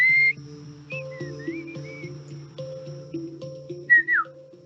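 Mazatec whistled speech, a traditional whistled form of the Mazatec language used to communicate across long distances, heard as several short gliding whistled tones, some rising and falling, over a steady background tone.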